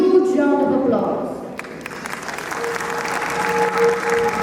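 School annual day audience applauding to welcome student actors onto the stage, a broad wash of clapping building after a spoken introduction and holding steady, with a sustained tone and voices faintly under it.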